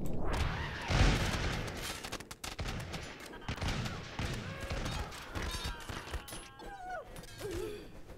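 Flintlock soldiers fire a ragged volley in Totally Accurate Battle Simulator, a dense burst of overlapping gunshots up front that thins into scattered pops, thuds and battle clatter over several seconds.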